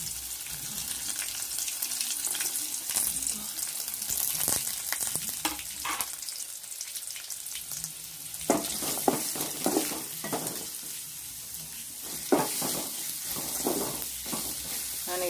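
Chopped onions sizzle and crackle steadily in hot oil in a small wok, with occasional louder bursts and stirring scrapes, no voices.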